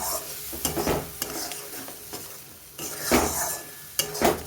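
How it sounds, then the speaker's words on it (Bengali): Mustard-poppy seed paste is stir-fried in a pan for a fish curry, with scraping spatula strokes and clinks against the metal over a soft sizzle, several louder stirring bursts close by. "এবারে আমি সর্ষে পোস্তটা দিয়ে একটু কষিয়ে নেব।"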